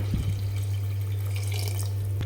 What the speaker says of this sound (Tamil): இதில் நான் ஒரு சொம்பு தண்ணி ஊற்றிக்கிறேன்